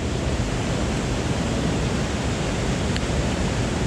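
Waterfalls pour beside cliffs in Tennessee, a steady broadband roar of falling water that holds even and unbroken throughout, close and loud with no voices over it.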